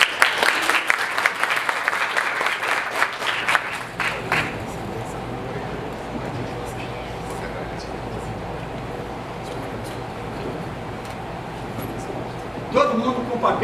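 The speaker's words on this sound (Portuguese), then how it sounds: "uma salva de palmas para ela" A seminar audience claps for a woman called Jaqueline as she steps onto the stage. The dense applause lasts about four seconds and then drops to a quiet murmuring room. A short burst of noise comes near the end.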